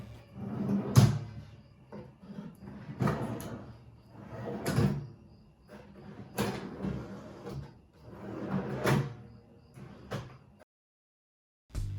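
A handmade wooden cabinet drawer slides open and shut about five times, each pass a rolling scrape ending in a soft knock, repeated at a steady pace with pauses between.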